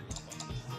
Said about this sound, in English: So if we just type in some stuff like that